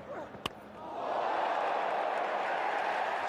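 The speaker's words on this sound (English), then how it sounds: "Listen to the crowd." Cricket stadium crowd in a Test match between India and Australia, a sharp crack of a ball early on, then a rising, sustained roar of the crowd that swells and holds.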